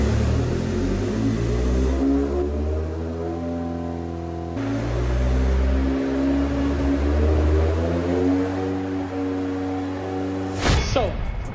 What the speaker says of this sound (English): come and play with the Swindon race engine on an engine dyno